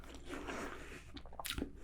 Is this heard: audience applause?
no